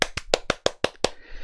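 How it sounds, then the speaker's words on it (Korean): Seven sharp hand claps land in an even, quick rhythm, close and distinct, then fade into a quiet tail. "박수!"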